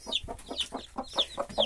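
A hen clucks in a chicken coop with newly hatched chicks, a steady run of about eight short, evenly spaced clucks, close and clear with no talking.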